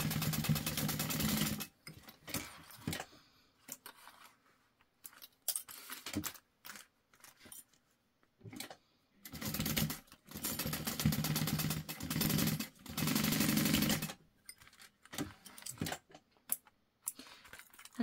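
A sewing machine whirs in bursts of stitching, starting and stopping repeatedly with quiet pauses between runs.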